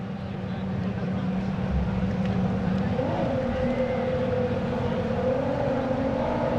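Drag racing boats launch off the start in a continuous loud, droning engine roar that holds steady and swells slightly as they pull away, with no talk over it.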